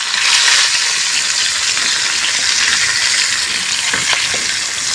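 Loud, dense sizzling of salted fish frying in reused oil, a continuous crackling hiss with a few brief stirring clatters near the end and no talking.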